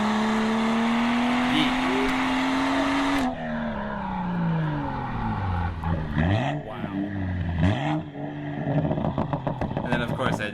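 A race car in a video game at Watkins Glen revs high in one gear, then makes a sharp early upshift to third. Later come quick downshift blips with rising and falling engine pitch, and a voice talks over the last part.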